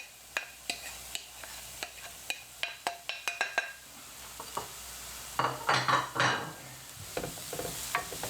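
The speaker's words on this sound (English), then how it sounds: "going to get your onions in and the grated carrot" Onions and grated carrot sizzling in a pan, with repeated clinks and scrapes of a utensil stirring against the metal, followed by a louder burst of frying.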